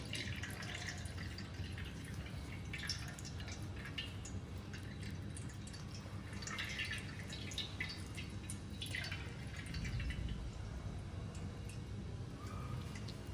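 Faint, irregular drips of water fall one after another from curd hung in cloth in a quiet room, soft and close, with no talking.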